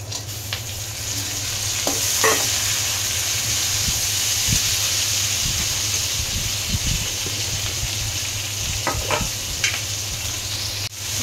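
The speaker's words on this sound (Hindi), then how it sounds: "जब तक इसको भूनेंगे देखिए प्याज थोड़ी सी नरम हो गई है" Onions frying and softening in a pan for a paneer malai kofta, a steady close sizzle with occasional stirring scrapes and clatters throughout, no talk.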